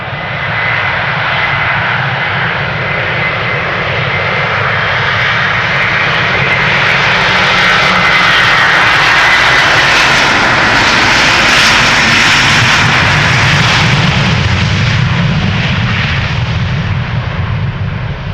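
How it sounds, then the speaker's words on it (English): A Delta Airlines Airbus A330-300 jet departing Amsterdam Schiphol Airport roars loudly and steadily, its engine thunder swelling to a peak midway before easing slightly, with no voices. "Delta Airlines Flight 163 is ready to go to Minneapolis, Minnesota. Another Delta A330-300."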